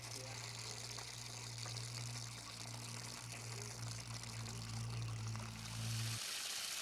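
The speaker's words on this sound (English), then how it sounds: "This is our pump. That's actually where our water comes from." Water pours steadily from an old hand pump that draws well water on family land, a continuous gushing stream. A low mechanical hum runs underneath until both stop abruptly near the end.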